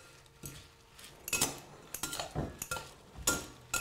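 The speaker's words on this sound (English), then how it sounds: "just use your tongs and kind of incorporate it as best you can" Metal tongs tossing and mixing a seasonal winter dish in a pan, giving a run of light clinks and scrapes in irregular bursts, close and moderately loud, with no talking.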